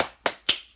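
Two sharp hand claps, a quarter second apart, close and crisp with a quick decay, cheering on a Chimera spinning top.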